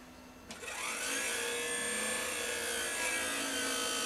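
A noisy graphics card fan in a PowerMac G4 spins up at startup into a steady, harsh, rasping whir that continues evenly at a moderate level, with no speech.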